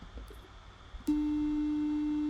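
A VCV Rack voltage-controlled oscillator sounds a pure sine tone that switches on abruptly partway through after a quiet stretch, then holds steady and loud to the end.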